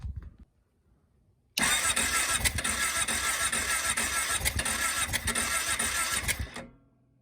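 A Kawasaki KFX 700 V-twin ATV engine cranks loudly for about five seconds, rough and uneven, with backfire through the carburetor, after a quiet start and before stopping abruptly.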